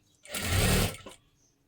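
A sewing machine runs in a single close, steady burst of just under a second while stitching blouse fabric, then stops.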